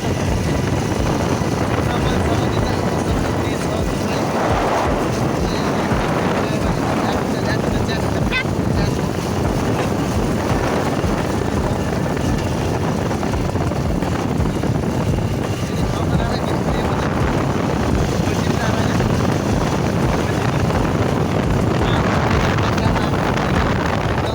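Strong wind in a high-altitude forest roars steadily against the microphone throughout, a constant broadband rush with gusty swells and no clear voices.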